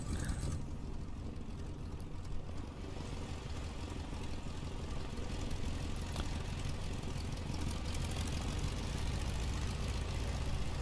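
A Stearman biplane's radial engine runs at a steady, even drone in a flight simulator, holding a constant level throughout with no voices over it.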